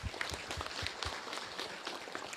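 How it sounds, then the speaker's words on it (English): Conference audience applauding a sponsor: a steady patter of many hands clapping, moderately quiet and somewhat distant, with a few sharper claps standing out near the start. "Can we have a round of applause?"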